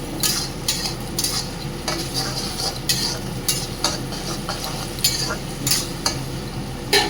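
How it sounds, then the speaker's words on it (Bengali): Garlic paste, green chili and ginger are stirred in a frying pan, with repeated scraping and clinking of a utensil against the pan over a constant sizzle and no speech. "রসুন বাটাটা দিয়ে ভালো করে নাড়বো।"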